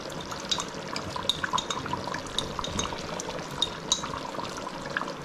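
Ghee, about 100 to 120 ml, is poured into a pot of Ambur-style chicken biryani, making a soft, close liquid trickle over faint bubbling and light crackles.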